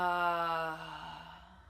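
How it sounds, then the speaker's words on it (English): A single deep, voiced exhale released during a group breathing meditation, close and moderately loud, with a breathy tone that fades away over under two seconds. "And exhale."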